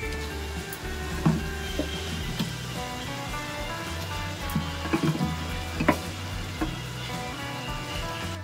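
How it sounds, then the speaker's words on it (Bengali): Chicken pieces added to spice paste frying in a pan make a steady, close sizzle broken by scattered pops and clinks of stirring, over faint sustained background tones with no one speaking. "এবার আমি চিকেনের পিসগুলোকে দিয়ে দেব"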